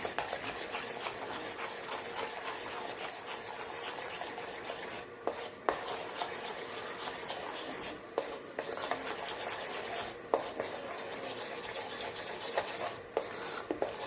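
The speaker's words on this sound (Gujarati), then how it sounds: "સરસ મિક્સ કરી લઈએ." Dhokla batter being mixed in a bowl with Eno fruit salt, salt and a little water, giving a steady scraping, rubbing swirl that runs continuously with a few brief pauses, close and fairly quiet.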